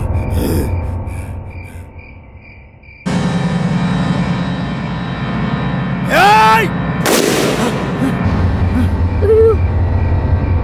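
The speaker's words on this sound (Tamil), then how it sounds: "ஐயோ, எவ்வளவு குண்டு போட்டான் போலியே." Bombs explode during a scene in a Tamil short film, a sudden loud blast cutting in and followed by rumbling impacts and whistling, falling tones, with a gasp and voices mixed in.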